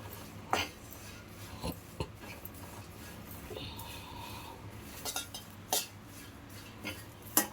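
Spices for sambar powder dry roast in a pan, with sporadic metallic scrapes and clinks of a utensil stirring them against the pan over a quiet background.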